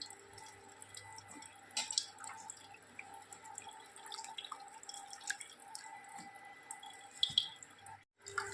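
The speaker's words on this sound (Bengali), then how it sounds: "জল থেকে এভাবে হাত দিয়ে চিপে চিপে জলটা ছাড়িয়ে নিচ্ছি" Water squeezed by hand from soaked, softened soybean chunks, giving scattered close dripping and trickling into a bowl at a quiet level, with no talk.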